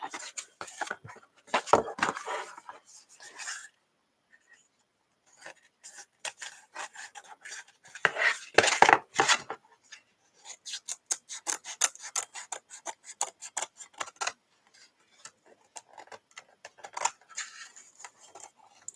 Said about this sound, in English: let's clean off the scissors. I had a lot of sticky double-sided tape remnants on here.